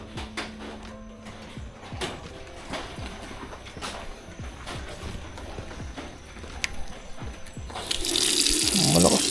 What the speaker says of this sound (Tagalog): Tingnan natin yung bidet. Sakto lang oh. Sakto ang pressure ng tubig.